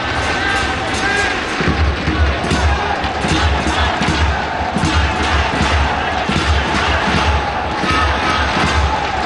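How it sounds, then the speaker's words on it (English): A stadium crowd at an AFC Cup 2018 football match between FLC Thanh Hóa and Global Cebu FC chants and cheers in loud rhythmic waves with drum-like thumps, roaring continuously in the distance. "I think the crowd quite clearly trying to raise their team here"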